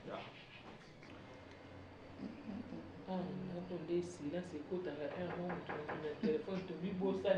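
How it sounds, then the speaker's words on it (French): Knocking sounds on a door in a Congolese drama household scene, a few dull raps partly under ongoing conversation between several people. "on frappe à la porte"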